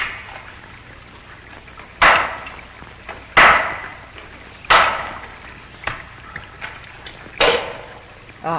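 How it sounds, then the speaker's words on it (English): Hammers strike a cave wall in a film scene, sharp loud impacts at irregular intervals of a second or so, each with a brief ringing tail. "It's time for everybody to strip down and start hitting the wall."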